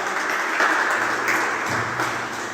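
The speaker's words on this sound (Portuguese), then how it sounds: "Pode aplaudir ao Senhor com as palmas." A church congregation claps hands in praise during a Portuguese-language worship service, a dense, steady wash of many hands filling the room for a few seconds with no voices over it.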